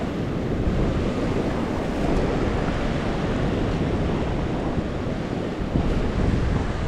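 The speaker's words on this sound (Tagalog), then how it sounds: "Brad, malaki alon." Heavy surf surges against coastal rocks where anglers fish, filling the scene with a constant loud wash of water and wind rumble across the microphone, with no speech.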